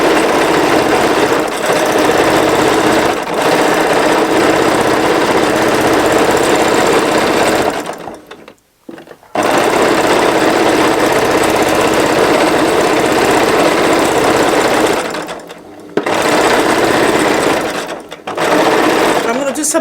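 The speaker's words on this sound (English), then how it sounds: "I'm starting with swirls because I want to put the machine through the test properly." A Baby Lock Jazz 2 sewing machine stitches free-motion quilting swirls in a loud, steady, close whir, stopping briefly twice before running on again.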